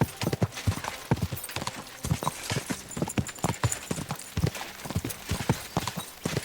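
Galloping horse hooves in Kingdom Come: Deliverance 2 pound out a quick, steady clip-clop rhythm, close and prominent throughout.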